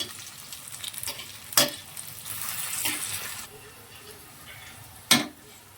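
Soft hiss of bitter gourd frying in oil in a pan, broken by two sharp clatters of a utensil against metal.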